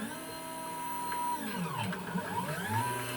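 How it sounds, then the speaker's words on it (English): Stepper motors drive the spindle of an Arduino-controlled DIY CNC machine cutting wood, giving a steady whine that bends into sliding, rising and falling tones as the axes move, close and moderately loud. "We can see the spindle moving, and the Z will only move in between passes."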